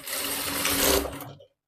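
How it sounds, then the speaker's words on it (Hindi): Sewing machine running steadily while stitching the shoulder seam of a blouse, a continuous close whir lasting just over a second before it stops abruptly, with no voices. "यहाँ पे 1/2 इंच की दूरी से सिलाई लगा देना है"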